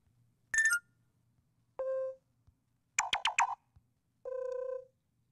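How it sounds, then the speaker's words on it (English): Short previews of stock Android notification sounds play one after another: a bright chime, two tonal boops and a quick rippling burst, each separated by silence and clear over a faint low hum. "Scroll through to select a notification sound. Tap any entry to hear a preview."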